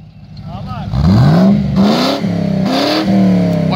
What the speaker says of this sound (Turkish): V8'in sesini seviyorum ya.